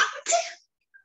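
A single sharp sneeze bursts out close by in a classroom, followed by silence and a faint short sound.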